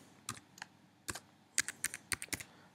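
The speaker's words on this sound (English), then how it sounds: "I'm going to enter my password" A password being typed on a computer keyboard: about ten quiet, close keystrokes in irregular bursts, with short pauses between clusters and no speech.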